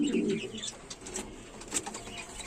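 Fancy pigeons coo softly near the listener, with a low burbling call at the start and a few faint chirps and rustles after.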